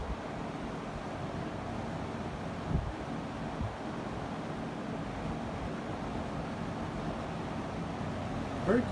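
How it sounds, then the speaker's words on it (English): A 20-inch Penncrest 100 series box fan runs on medium speed, giving a steady, even broadband whoosh of moving air with a low hum, close and constant throughout with only brief soft bumps and no talk. "Medium's like a low on a 2-speed fan."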